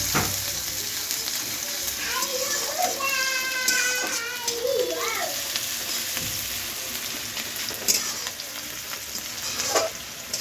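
Onions sizzling and frying in a pan with dried red chilli and a little sugar, stirred now and then with scraping utensil sounds, the steady hiss continuing throughout with faint background voices.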